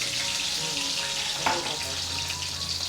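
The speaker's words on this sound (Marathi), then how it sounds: "हा टाकला कढीपत्ता हा पोलाटला हा ही लसूण टाकतो" Garlic and curry leaves frying in hot oil in a pan for chicken curry, giving a steady, loud, close sizzle with a brief stir-like burst midway, and no voices.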